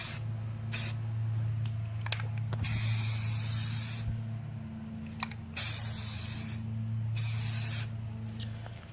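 Aerosol spray paint hisses onto a Savage Axis rifle in several short bursts separated by pauses, close and fairly loud over a low steady hum in the background.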